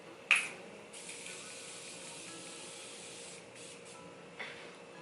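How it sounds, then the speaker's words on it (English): Face setting spray misted onto the face during a makeup routine, one sharp close spritz near the start, then a quiet soft hiss and a second fainter spray toward the end. "I'm just going to spray my face before highlighter."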